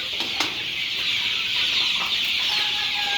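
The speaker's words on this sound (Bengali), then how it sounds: "আর মুরগি আছে এখানে" A few chickens cluck faintly on a farm in Saudi Arabia over a steady background hiss, with scattered short calls spread through the clip.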